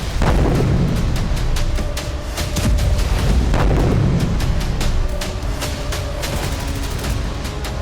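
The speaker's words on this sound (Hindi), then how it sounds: "देखिए कैसे T9 बुलडोजर को हमले में उड़ा दिया गया" Explosions and heavy blasts from an attack that blows up a T9 bulldozer, a dense, continuous barrage of loud booms with repeated sharp impacts and rumbling low end throughout, no voices.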